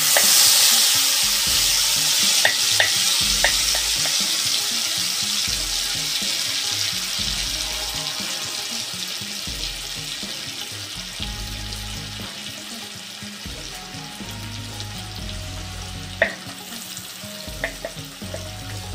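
A ground paste of green chilli, white sesame and salt goes into oil with parshe fish, sizzling steadily in the pan alongside repeated stirring scrapes, close and fairly loud, with no talking.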